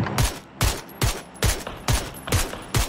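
Enemy gunfire in an online shooter comes as a steady series of about seven sharp shots, evenly spaced roughly half a second apart, moderately loud with no talk over them.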